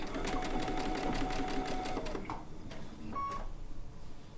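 A sewing machine stitches a quilt seam in a quick, steady whir for about two seconds, then stops, leaving a quiet hum and a brief high beep.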